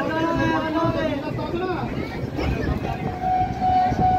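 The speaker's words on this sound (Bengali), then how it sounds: "তো গাড়ি এখন বেলঘড়িয়া পৌঁছালো, এবার এগিয়ে যাবে নেক্সট স্টেশনের দিকে" A local train runs on from Belgharia toward the next station on the Sealdah–Bandel line, with loud steady rolling rumble and a rising tone near the end, while a voice talks over it.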